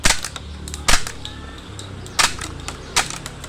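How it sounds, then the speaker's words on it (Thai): Replica Glock 21 toy pistol test-fired four times, sharp snappy cracks spaced about a second apart with faint mechanical handling noise between shots, no talking. "หลังจากที่เรา ใส่แมกกาซีนเข้าไปในตัวปืนนะผมจะลองทดสอบยิงให้ดู"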